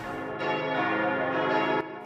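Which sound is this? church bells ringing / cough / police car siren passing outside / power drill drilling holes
church bells ringing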